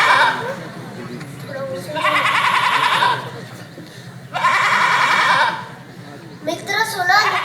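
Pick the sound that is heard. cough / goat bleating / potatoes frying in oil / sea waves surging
goat bleating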